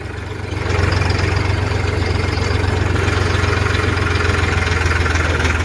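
A farm water pump motor runs steadily beside a sugarcane field, its low engine-like hum and vibration swelling slightly after the first second and then holding constant and close.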